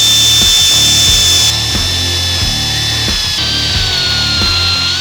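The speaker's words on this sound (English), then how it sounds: "while we're making a mess with the die grinder is we'll grind them up" A die grinder cuts into a car engine block to open up clearance for the conrods: a loud, steady high-pitched whine with shifting pitch as the bit bites the metal, running continuously with no talk.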